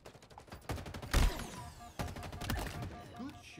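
Gunfire rattles through a Halo Infinite capture-the-flag match, rapid bursts of repeated shots with a couple of heavier impacts, fairly close and continuous over a few seconds of game sound.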